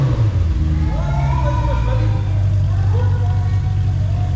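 An Audi RS5 V8 with an EVOX exhaust, its valves open, rumbling and revving loudly up close, deep engine tones rising and falling throughout, with people talking over it.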